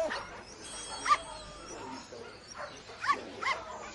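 Several short whimpers and yips from a big, long-haired dog with a huge mouth, spaced apart over a quiet, hissy background.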